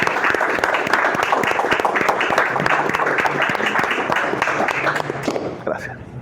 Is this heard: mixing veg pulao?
no